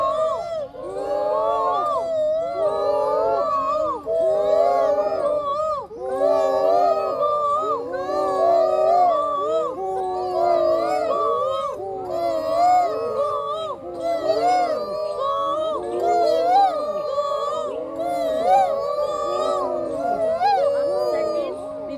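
A person imitates a koel's (cuckoo's) call as a thyroid exercise, giving a steady run of close, loud, pitch-bending vocal calls that repeat for the whole stretch with only brief pauses.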